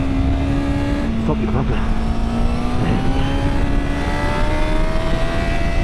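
A 1000cc sports motorbike on a Thailand track-day circuit, its engine holding a loud, steady high-pitched drone that climbs gradually in pitch over wind roar, with a brief spoken remark early on.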